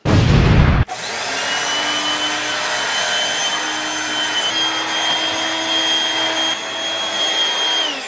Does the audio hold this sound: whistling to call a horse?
no